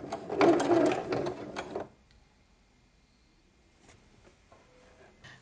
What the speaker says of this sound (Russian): я проложу отделочную строчку примерно на 3 мм от края по всему обтаченному